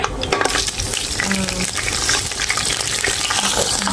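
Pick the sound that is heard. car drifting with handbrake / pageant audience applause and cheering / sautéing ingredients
sautéing ingredients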